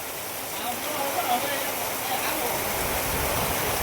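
Heavy nighttime rain falls in a village in Botad district, Gujarat, with water flowing steadily, a dense continuous hiss of downpour and running water throughout.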